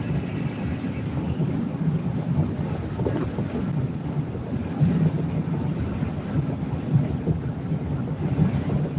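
Strong wind blowing outdoors, buffeting the microphone with a steady low roar and gusty rumble throughout, no talk over it.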